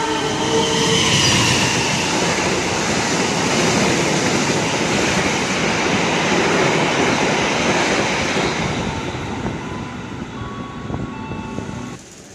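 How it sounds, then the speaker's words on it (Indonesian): The Argo Sinduro passenger train rushes straight through Buaran station on double track, a loud, sustained roar of wheels and carriages with rhythmic rail clatter that thins slightly before ending abruptly. "Dari sisi barat double track melintas langsung kereta api Argo Sinduro."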